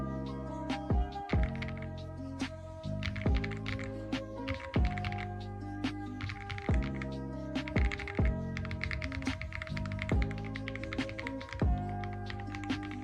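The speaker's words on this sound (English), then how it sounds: "The best thing about this keyboard is the sound" A new RGB mechanical computer keyboard is typed on in a steady run of crisp, close clacks and taps, heard beneath a tonal background sound that continues throughout.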